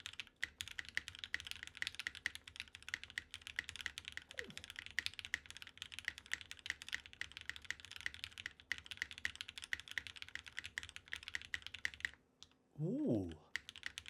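Fast, continuous typing on a custom-built Velvet mechanical keyboard, dense close key clacks throughout, then a brief voice near the end.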